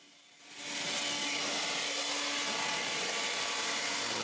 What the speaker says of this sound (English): I try to clean the dust with the blower, but it's going to take more than that.